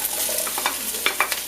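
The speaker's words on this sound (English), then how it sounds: "I normally like my onions dry before I add the cooking oil, so I'm gonna give it a time like 3 minutes, just stirring it" Onions stirred dry in a pan before any oil goes in, quick scraping and rustling strokes with light hissing, close and fairly loud, repeated taps of the utensil near the end, no speech.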